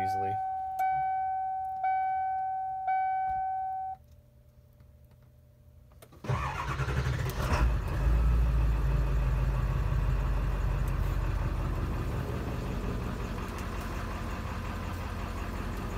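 Three electronic chimes ring inside a short school bus conversion before the engine cranks and catches, then idles in a steady, loud rumble close by.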